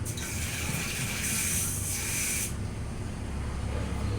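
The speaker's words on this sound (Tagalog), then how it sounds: "Lagyan na natin ng konti pang tubig." Water poured into a pot of pancit on a stove, a steady close splashing gush for about two and a half seconds, then fading to a low simmering hiss and background rumble.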